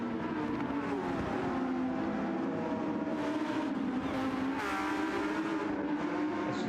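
Race cars on track at Laguna Seca in a Porsche Cup and GR3 Masters racing series, engines droning and rising in pitch through shifts with some tire squeal, a steady loud mix of several cars without talk.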